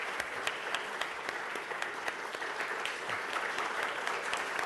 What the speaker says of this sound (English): you got a bigger applause than I did